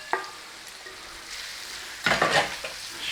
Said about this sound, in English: I'm going to throw the bacon in here with this